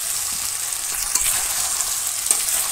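Meat being fried (kosha) with potatoes in a pan in a village kitchen, giving a continuous close hissing sizzle with small pops and crackles scattered throughout.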